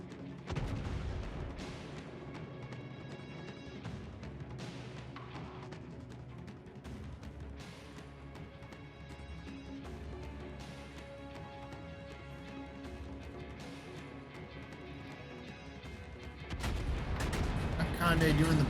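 Secondary guns on the warship Conde fire bursts in World of Warships, booming in repeated rapid volleys over a busy game soundscape, with a louder, denser barrage at the very end.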